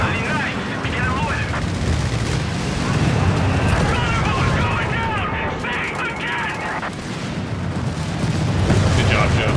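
Air support strike in Company of Heroes 3, with a dense barrage of explosions and gunfire rumbling steadily over the whole stretch while players talk over it.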